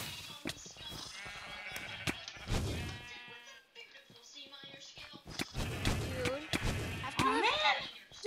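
Sheep bleat loudly several times amid busy Minecraft game sounds on the Mineplex server and sharp bangs, with a person talking over parts of it.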